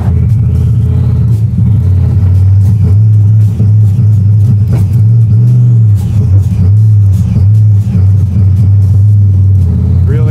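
A 760 HP turbocharged Chevy C10 pro touring truck runs loud and close, its engine rumbling steadily with rising and falling revs for the whole stretch, with faint voices underneath.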